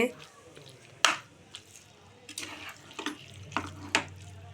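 Cashews and raisins frying in ghee for semiya kesari, a faint sizzle under intermittent stirring clicks and spoon taps against the pan, with a voice talking now and then.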